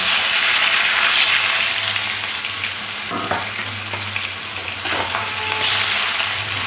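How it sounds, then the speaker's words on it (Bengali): Catla fish pieces rubbed with salt and turmeric fry in mustard oil in a wok, giving a continuous loud sizzle and hiss with a few soft stirring or turning sounds partway through. "মাছ ভাজার জন্য কড়ার মধ্যে সর্ষের তেল দিয়ে দেব।"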